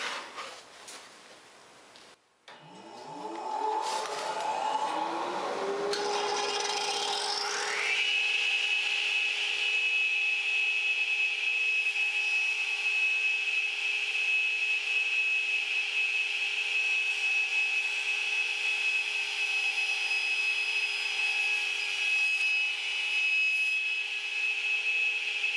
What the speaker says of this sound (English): So cutting the miter is going to be just like the cross cut.